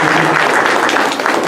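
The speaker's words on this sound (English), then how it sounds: "Round of applause to Pankaj ji." Dense, loud applause from an audience at a community Republic Day celebration, steady clapping filling the whole moment with no talk over it.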